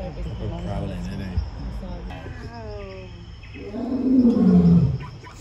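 A big cat roars at a zoo during a Halloween event at Chessington World of Adventures, one deep, swelling roar rising near the end over a murmur of nearby visitors talking.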